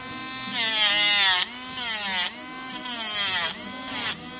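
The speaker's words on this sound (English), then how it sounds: "I'm going to go ahead and bump that all the way up to high there, and then we'll start filing here." An Andis electric nail grinder runs on its high setting while filing a dog's nails. The close, steady motor whine dips and rises in pitch as the tip presses against each nail and lifts away.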